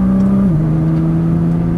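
A Nissan GT-R engine drones steadily on a track at Dunsfold Park, its pitch dropping briefly as it shifts up a gear, then holding an even note.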